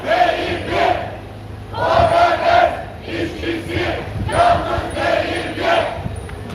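Union workers marching for the food industry union TEKGIDA-İŞ chant in unison, a large crowd shouting rhythmic slogans in repeated loud bursts with short pauses between phrases.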